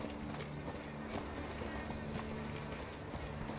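A horse's hooves clip-clop at a running pace in The Witcher 3: Blood and Wine, set in a dense, loud game soundscape with constant background noise and a voice faintly underneath.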